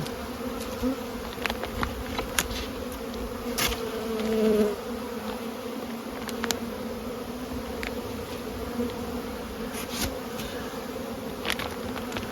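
Honeybees fly in and out of the bottom entrance of an insulated hive in spring, a steady buzzing drone with individual bees zipping close past now and then, and no talking.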